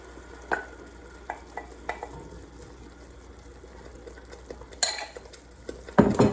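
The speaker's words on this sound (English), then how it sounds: "now this is where I'm going to come in with the 4 cups of crushed tomatoes." Crushed tomatoes going into a hot pan of fish gravy, with soft stirring clinks and scrapes, then a louder splash and burst of sizzle near the end, close and otherwise quiet.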